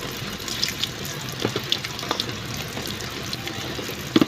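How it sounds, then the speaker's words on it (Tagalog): Running tap water splashes steadily while dishes are washed at a sink, a continuous close hiss broken by a few soft clinks and a sharper knock near the end. "Dito na naghuhugas ako."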